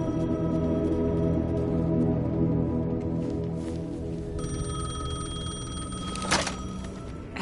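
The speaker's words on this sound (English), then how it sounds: "phone was ringing. Somehow I knew the call was for me." Telephone ringing in the video game Alan Wake 2, a bright electronic ring sounding over a low steady hum, with a dull thunk near the end and no talk.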